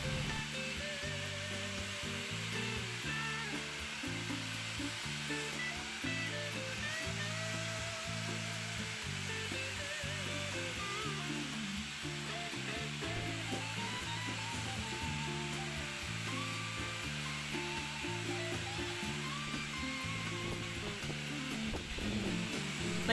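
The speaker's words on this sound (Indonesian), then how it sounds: "Di sini kita blow lagi rambutnya sampai benar-benar kering dan menemukan posisi rambut natural." A hair dryer blows hair fully dry during a basic barber haircut, a steady airy rush running continuously beneath rhythmic background music, with no talking.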